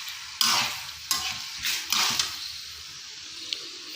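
Food sautéing in a pan, with a steady sizzle broken by several louder scraping stir strokes across the pan, close and clear with no talk.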